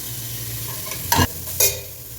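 Sliced onions go into hot oil for biryani, bringing a soft steady sizzle and two sharp, brief clatters from the pan.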